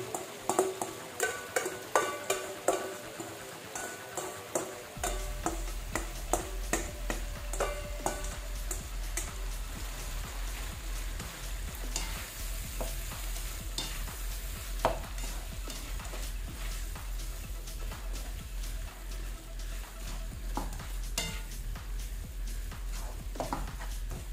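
Cabbage and corned beef are stir-fried in a pan, starting with a string of sharp scraping stirs, then a continuous sizzle with repeated utensil scrapes and clicks over it.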